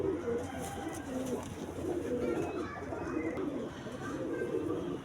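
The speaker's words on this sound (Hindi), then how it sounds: "ज़ोर आवर कबूतर है" High-flyer pigeons in Karachi coo softly and steadily, not far off, with someone talking faintly now and then in the background.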